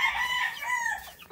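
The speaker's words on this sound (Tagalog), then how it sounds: "Dito po ang ating mga white kelso." A white kelso rooster crows once, a loud close call held briefly and then falling away.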